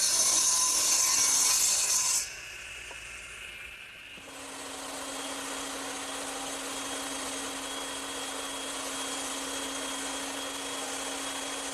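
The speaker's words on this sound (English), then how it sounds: "Now I'm going to use my radial arm to cut the pieces to length." Radial arm saw cutting freshly milled wood pieces to length in a woodshop: a loud blade cut ending at about two seconds, then quieter whirring as the blade spins on and settles into a steady hum.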